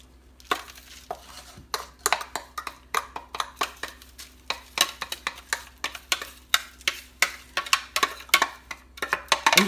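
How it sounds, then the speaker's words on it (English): Spoon scraping and stirring a crust mixture moistened with melted butter in a pan for a salted caramel pecan cheesecake: repeated sharp scrapes and clinks in an irregular rhythm, close and fairly loud, with no talking. "I'm going to stir this around, make sure it's moistened"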